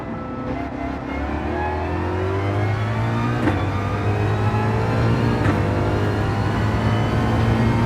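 A Coyote V8 race car in a racing video game accelerates hard, its loud engine note climbing steadily through the gears with brief shifts, continuous and close throughout.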